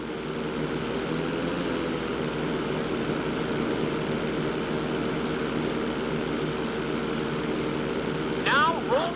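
Steady propeller aircraft engine drone from a plane in GTA 5, holding a constant droning tone throughout a roll manoeuvre, with a brief squeal or radio sound near the end.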